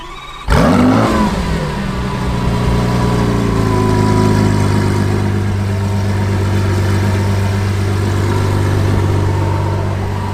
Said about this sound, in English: Sounds like no other Lamborghini in the world.